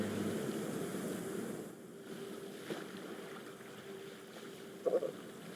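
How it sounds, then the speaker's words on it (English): Ocean surf as a soft, steady rushing wash of waves returning in a fantasy tabletop game scene, faint and continuous with a low hum and a small knock near the end. "Sound of the ocean comes back."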